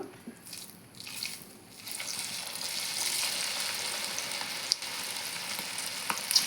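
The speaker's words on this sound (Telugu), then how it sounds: "ఆయిల్ అయితే హీట్ అయిందండి. మనం ఇప్పుడు కలిపి పెట్టుకున్నాం కదా పాలకూర మిశ్రమం, అదైతే వేస్తున్నాను." Spinach and rice flour pakoda batter dropped into hot oil: a soft start that builds into a steady, close, bubbling sizzle, with a couple of sharp pops near the end and no voices.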